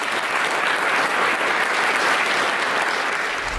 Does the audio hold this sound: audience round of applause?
yes